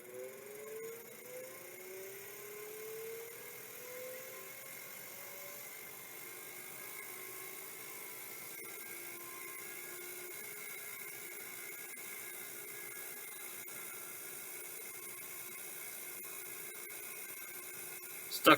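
Stepper motor stuck inside a 3425-series unit, giving a faint, rough, continuous whir with a few rising whine tones early on, heard close over a low steady drone.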